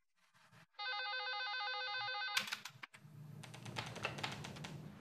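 A telephone rings with a steady electronic trilling tone lasting about a second and a half, then cuts off into clattering and a rapid tapping burst like keyboard typing.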